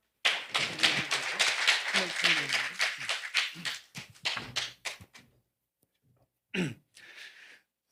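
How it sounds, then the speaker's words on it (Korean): An audience at a digital asset investment forum claps to welcome a visiting Gachon University professor to the stage. Several seconds of dense, close clapping mix with some voices, then it thins to scattered claps and fades out. "여러분 큰 박수로 맞이해 주시기 바랍니다"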